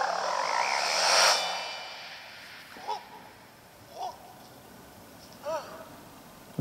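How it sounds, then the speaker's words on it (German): Frog croaks from Super Mario Odyssey after Mario captures a frog, heard as three short, spaced chirpy croaks following a louder burst of game sound at the start, with talk in the background. "Du hast dich in einen Frosch verwandelt. Du hast einen Frosch gekapert."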